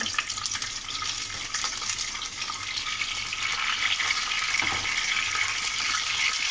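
Cumin seeds and garlic sauté in hot oil in a pan for beef handi, giving a steady close sizzle and crackle that grows slightly louder midway, with no talking.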